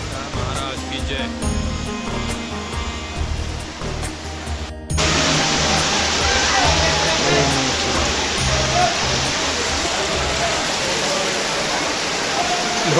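Steady rain pours at Marleshwar temple, a dense hiss that grows louder after a brief break midway, with crowd voices and chatter running underneath throughout.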